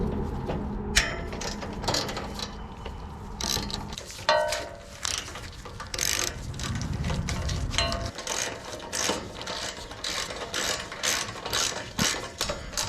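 Ratchet clicking steadily while removing 5/32 bolts from a panel over the oil filter on a Ventrac 4500Z, a close run of quick pawl clicks with brief pauses and metallic handling, no talk.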